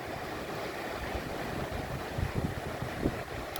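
Ocean waves and wind at sea in rough weather off the Philippines give a steady broadband rush, with soft low thuds of water breaking and slapping.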